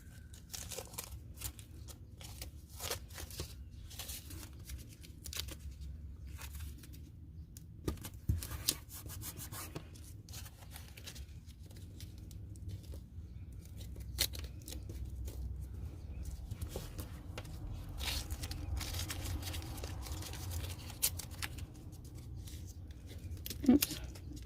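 Tape is rubbed and pressed down to mask a snowflake stencil on a Christmas card, producing faint, irregular scratchy rubbing and crinkling close by over a low background rumble.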